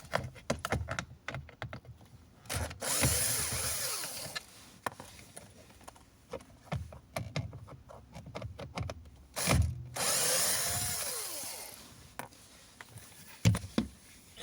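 Bursts of a small power driver backing Phillips screws out of the plastic steering column cover on a Hyundai Santa Fe, with short whirs between clicks, taps and handling noise close by.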